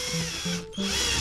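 A power drill bores into a camper van body while solar panels are fitted: three short, close whirring bursts separated by brief pauses.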